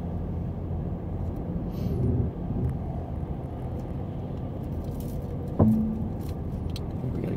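A car driven by a first-time learner moves slowly over a rocky road, its low steady engine rumble and tire noise filling the cabin, with one brief sharp knock partway through and no talking.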